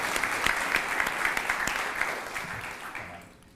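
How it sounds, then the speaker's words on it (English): Volunteers at an alumni awards evening receive a round of applause from the audience, a fairly distant, even patter of many hands that gradually fades out over the last second. "Let's give them a round of applause."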